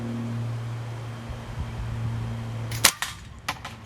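A slingshot fired with a band setup on a frame fitted with a gapper: a sharp snap and band slap near the end, followed by a couple of fainter clicks, after steady low background hum.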